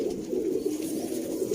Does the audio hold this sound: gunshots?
no